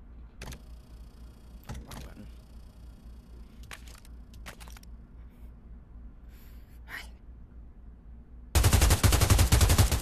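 A submachine gun in a shooting video game unleashes a sudden loud, rapid burst of automatic fire at the very end, after several scattered sharp clicks and thuds over a quiet background.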